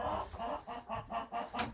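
A broody hen with chicks on a cold January farm clucks close by in a steady series of about six rhythmic, throaty pulses, with no voices.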